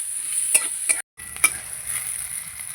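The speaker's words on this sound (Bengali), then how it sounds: "এবার বেগুনটা ভেজে নেব।" Eggplant frying in a pan with a little turmeric, a steady close hiss broken by a few stirring scrapes and one brief gap.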